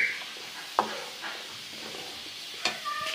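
Garlic, green cardamom and cloves sizzle in hot oil while frying, a steady crackling hiss broken by a few sharp stirring clacks of a utensil against the pan.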